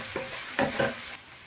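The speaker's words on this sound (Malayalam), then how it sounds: "ഒന്നും കൂടെ ഇളക്കി കൊടുക്കാം." Garlic and onion sizzle softly in a pan while a spoon stirs them, making a few scraping strokes over the steady frying hiss.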